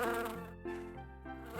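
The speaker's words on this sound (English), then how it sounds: "Bees are yellow and black," Continuous bee buzzing with a shifting, wavering pitch that dips and rises in steps, loud and close, with no speech.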